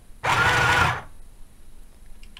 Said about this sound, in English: lower the presser foot and sew a few stitches